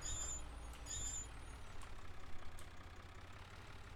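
A tractor idles in the farming game Landwirtschafts-Simulator 17, a quiet, steady low engine rumble with a few faint high chirps near the start and no talking.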